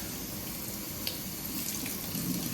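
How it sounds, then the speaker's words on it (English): Tap water rinses a K&N engine air filter during a 2018 Silverado 5.3 filter replacement, a steady, close, full-bodied splash with slight variations as the flow hits the pleats. "Do the whole thing, rinse it till it runs clear."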